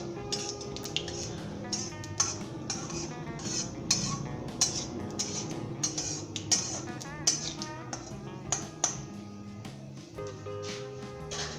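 A spoon stirs a kadhi mixture in a pot, giving a steady run of light metallic clinks and scrapes, close up and fairly quiet, with no talking.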